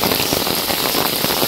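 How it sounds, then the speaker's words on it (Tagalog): Sudden heavy rain pours down in Canyamel, Mallorca, a dense, loud, steady hiss of downpour with no voices. "Biglaan yung ulan guys."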